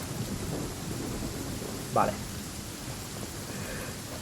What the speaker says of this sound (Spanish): Es ver que llueve y me entra ganas de...